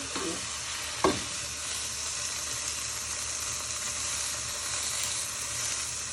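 Pulled pork sizzling steadily in a hot pan, a continuous close hiss of frying with a brief clunk of the meat being stirred and turned near the start.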